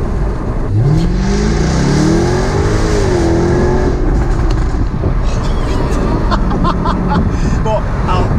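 A car engine drones loudly and rises in pitch as it accelerates in dynamic mode, with continuous road and wind roar underneath and someone talking over it.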